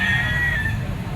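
A young gamecock (stag) of pumpkin sweater stock crows once at a Philippine grotto market, a loud, close, sustained call lasting about a second over a steady background rumble.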